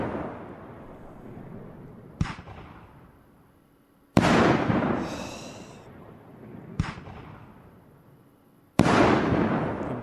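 Heavy firework shots explode one after another in the video game Fireworks Mania, four sharp, loud bangs spaced a couple of seconds apart, each trailing off into a long rumbling, crackling fade.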